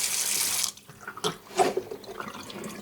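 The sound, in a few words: draining boiled menudo liquid into the sink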